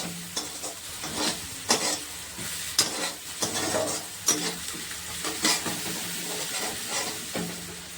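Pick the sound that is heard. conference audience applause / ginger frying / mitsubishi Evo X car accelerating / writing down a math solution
ginger frying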